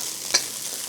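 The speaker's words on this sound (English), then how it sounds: "And now I'm gonna add my onion" Onion frying in a pan for Thai pineapple fried rice, a brief steady sizzle with one sharp clink partway through.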